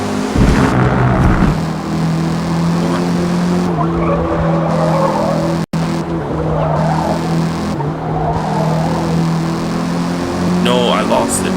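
Car braking hard in Forza Motorsport on the Modern Tour Cup, a steady loud engine drone with long tire squeals and skidding, while a person talks over it.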